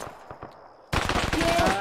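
Automatic gunfire from enemy weapons in the Arma 3 military shooter, a quiet spell of faint pops and scattered shots, then a sudden loud, dense burst of rapid fire that continues steadily to the end.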